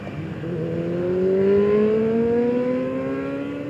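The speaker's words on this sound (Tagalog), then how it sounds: "Angas ng motor." A motorcycle revs up and speeds past, its engine note climbing steadily as it swells louder and then fades away into the distance.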